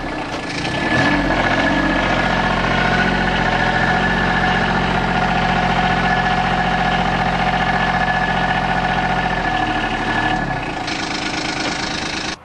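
A Gator utility vehicle's engine runs loudly and steadily close by while being loaded onto a trailer, holding an even rumbling drone with a slight change in pitch near the end before it suddenly cuts off.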